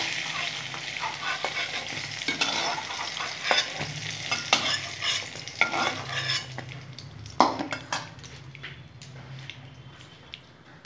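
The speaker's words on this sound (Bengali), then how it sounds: "ভালো করে দেখো বেগুনগুলো এবং ভাজা হয়ে গেছে" Brinjal pieces fry in oil in a pan, giving a bright sizzle with repeated stirring scrapes and utensil clinks against the pan, softening toward the end.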